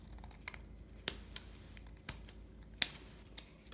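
Scissors snipping deco mesh ribbon for a wreath bow tail, a few sharp isolated clicks and cuts over a quiet background.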